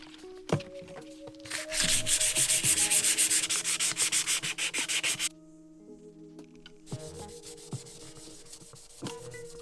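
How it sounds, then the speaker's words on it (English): Rhythmic rubbing strokes of sandpaper on a metal crank of a retro GT 26-inch bike, steady and close, with a pause before a second lighter round of scraping. "It was just about 10 minutes of sanding and polishing."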